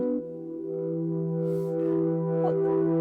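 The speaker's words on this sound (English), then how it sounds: "And then let's add a little bit of reverb," A sustained synthesizer pad holds a soft chord, with a reverberant wash that swells and lingers, alone without voices.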